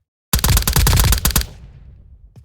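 A rapid burst of gunfire from an automatic weapon in a Roblox shooting game, a dozen or so loud shots fired in quick succession for about a second, then a trailing echo fading out.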